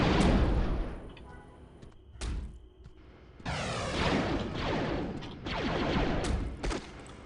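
A turret mounted on top of the player's character fires repeated bursts in Star Wars Galaxies, sharp volleys broken by short pauses, with whooshing blasts amid a droid and pod racer wreckage area.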